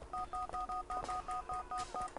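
A phone number is dialed in the video game GTA IV, a rapid series of about a dozen evenly spaced dual-tone beeps, clear and alone over faint background noise.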